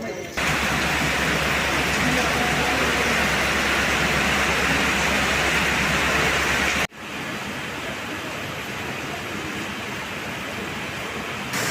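Steady, loud monsoon rain pours down as a dense hiss near Vasco station in Goa; the wash of sound drops briefly, then continues slightly softer.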